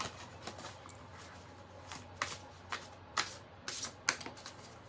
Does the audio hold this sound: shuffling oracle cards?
yes